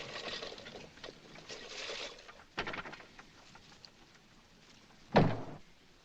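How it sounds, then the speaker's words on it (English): A door is shut with a single short, fairly loud thud near the end, after quiet room tone and faint movement. "Shut the door."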